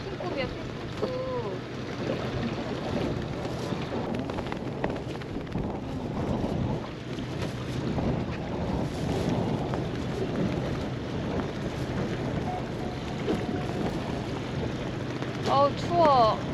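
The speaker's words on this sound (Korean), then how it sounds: "오, 바람." Strong wind blows steadily across a fishing boat out at sea, a broad continuous rush with engine and water noise beneath, while people talk briefly over it.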